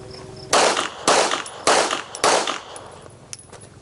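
Four handgun shots ring out at a steady, fairly quick pace during a recoil control drill, each a sharp loud crack with a short decaying tail, followed by a quiet pause.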